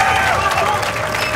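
An audience at the TG15 finale applauds and cheers in a brief, dense burst of clapping, with a voice talking over it.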